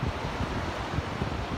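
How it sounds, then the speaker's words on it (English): Wind buffets the microphone on the beach at Galveston's Jamaica Beach, a rough, continuous low rumble with gusty swells and possible surf underneath. "A little bit windy, not too bad"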